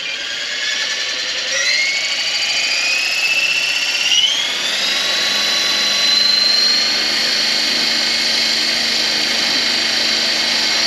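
RC scale Bell Huey model helicopter in flight, a steady high-pitched rotor and motor whine that shifts in pitch as it climbs and hovers, loud and close, with no speech.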